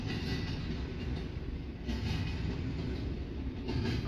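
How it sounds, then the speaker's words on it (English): A BNSF double-stack freight train rumbles slowly northward nearby, a steady low rolling roar with faint wheel noise, no voices. "BNSF's stacker behind me is slowly starting to head north again."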